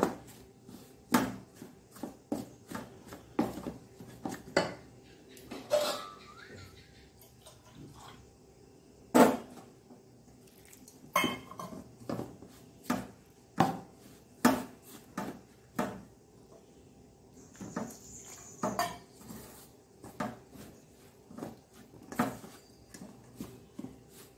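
Wheat flour is worked with boiling hot water into dough for wheat idiyappam, or ottu shavige, giving a run of irregular knocks, clinks and soft scrapes at close range and fairly low volume, with no talking.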